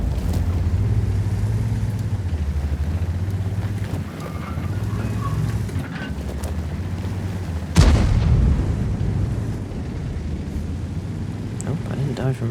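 A steady low tank-engine rumble runs throughout the World of Tanks battle, broken by one loud, close explosive blast near the end of the stretch that fades back into the droning engine.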